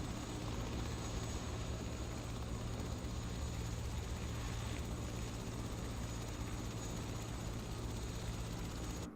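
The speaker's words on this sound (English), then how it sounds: "Helicopter's ready to fly." An H145 helicopter in Microsoft Flight Simulator produces a constant, even turbine and rotor hum that runs unchanged for the full length, loud and close with no voices over it.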